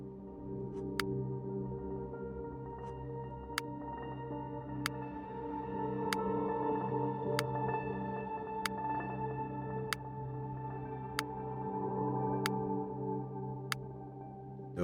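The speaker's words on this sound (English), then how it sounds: "Notice the ticking. That is the sound of science happening." Sharp, regular ticks sound about every second and a quarter in the video game Starvester. They sit over a soft, sustained tonal backdrop, and no one speaks.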